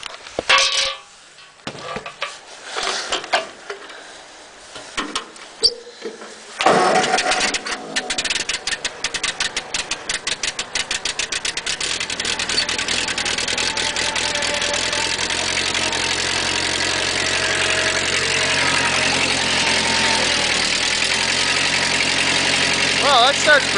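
A Ford 8N tractor engine is cranked with the choke worked in snowy March weather, catches after a few uneven attempts, then settles into a loud, steady idle that runs to the end, with brief talk at the start.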